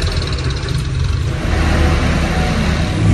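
Tractor engine on a farm, a steady mid-pitched rumble that grows gradually louder as it draws nearer, heard alone without talk.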